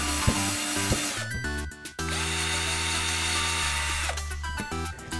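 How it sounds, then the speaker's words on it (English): A power drill whines and bores into wood in bursts while building a custom lightsaber prop, the motor pitch dropping under load, with short pauses between runs. "now I'm gonna go ahead and drill that out."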